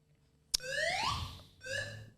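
A fire alarm goes off during a fire alarm check after a sharp knock. Its rising electronic wail runs about a second, then a shorter second burst follows, moderately loud, with no voices.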